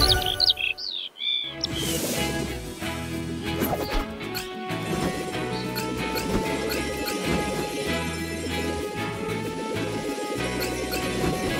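Chirping bird calls from the PAW Patrol Rescue World video game ring out over busy game music and effects, opening with a short crash before steady playful tweets.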